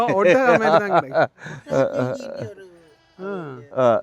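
On a goat farm in Canada, a llama or goat bleats close by in several wavering, nasal calls separated by short pauses.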